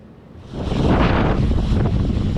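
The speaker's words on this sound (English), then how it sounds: "The wind is strong enough to blow off your hat or your hood" Strong, roaring wind at the shore during Tropical Storm Ophelia, gusting loudly against the microphone and rising into a sustained buffeting rush with surf-like noise beneath.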